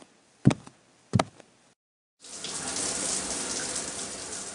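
A shower runs with a steady broadband hiss of falling water after two sharp bathroom knocks at the start, close and fairly loud.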